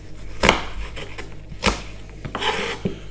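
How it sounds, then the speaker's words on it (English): A knife chops vegetables on a wooden board, a few sharp, irregular cuts close by with soft rubbing scrapes between them. "Just roughly chopping everything."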